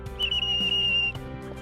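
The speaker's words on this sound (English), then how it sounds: "wave your arms above your head and blow your whistle." A shrill safety whistle sounds in one sustained, steady blast lasting about a second, loud and close, set against a background hum during jet ski safety instructions.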